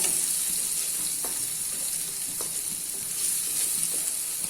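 Kashmiri red chili powder sizzles in hot oil in a pan with a constant, bright frying hiss and a few soft stirring taps, and no voices.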